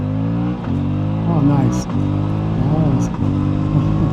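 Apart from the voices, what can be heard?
Aprilia Tuono 457 motorcycle accelerating, half-throttle roll-on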